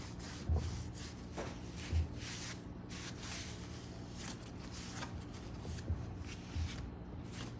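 A rag rubs old tarnish off a Ford 302 engine part in quiet, repeated scrubbing strokes, with a few soft thumps scattered through the steady friction.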